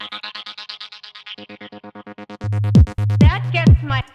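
A spacey synth texture run through an audio effects chain in a 90s UK organ house style, pulsing repeated chords that shift lower, then joined by a loud, deep bass-heavy layer with sweeping tones.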